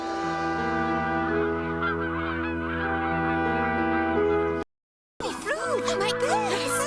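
Honking of swans in an animated film of the ugly duckling tale, repeated loud nasal calls over music, broken by a brief silence and followed by a burst of quicker, overlapping honks.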